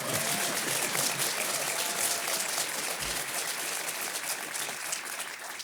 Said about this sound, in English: If I step on Paul's applause, he'll get very upset